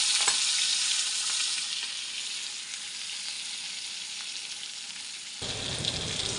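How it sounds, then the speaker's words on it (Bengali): Pointed gourd frying in hot oil with Bengali five-spice, a steady close sizzle and crackle throughout, with a brief stir near the end. "পটলটা ভেজে নিলাম, 5 ফোড়ন দিয়ে দিলাম ওই তেলে।"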